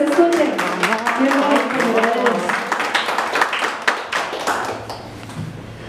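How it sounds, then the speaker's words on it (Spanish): Applause and clapping from guests at a birthday party with a youth mariachi band, a busy patter of hands at moderate volume with some cheering voices mixed in, fading toward the end. "Fuertes aplausos, nos escuchen."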